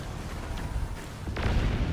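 Guns on a robot blowing up in the Robocraft Infinity video game, heard as a low rumbling burst that swells near the end of a short stretch of game noise.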